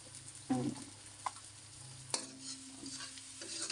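Food fries quietly in a pan after salt is added, with faint sizzling under sparse scraping stirs and a couple of sharp utensil clicks.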